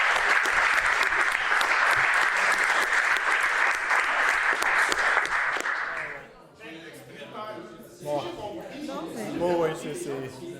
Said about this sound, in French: Il faudrait qu'on s'applaudisse tous ici de cette mobilisation exemplaire